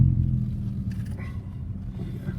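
A Toyan model V8 engine in a Camaro build revving, a low throaty rumble that starts strong then settles into a steadier idle, close and moderately loud.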